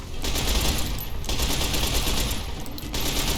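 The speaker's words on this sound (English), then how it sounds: "Let's try this submachine gun" Steady, dense submachine gun fire from a Fallout: New Vegas firefight runs loud and close through the whole stretch, broken by a couple of very short gaps between bursts.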